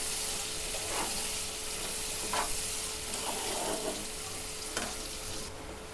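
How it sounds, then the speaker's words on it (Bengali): Chopped onions frying in a pan, with a steady close hiss and sizzle throughout and occasional scraping stirs at regular intervals; no voices. "এটা লাল করে ভালো করে ভেজে নিতে হবে।"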